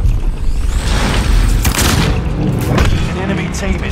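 A frag grenade explodes in a Call of Duty Warzone battle royale match on Skull Island, a heavy booming rumble with crackling bursts, loud and sustained over constant game noise.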